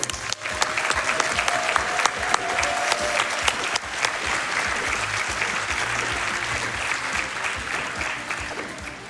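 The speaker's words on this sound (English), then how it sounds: "can we give a round of applause to Woadyb?" Sustained applause from a large audience, steady and loud throughout with a dense wash of clapping that barely fades.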